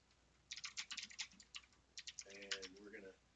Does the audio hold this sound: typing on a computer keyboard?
yes